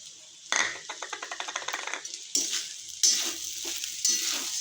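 Sabudana khichdi with crushed peanuts being stirred in a pan over a low gas flame, a close scraping, rhythmic stir in bursts with soft sizzling underneath and no talking.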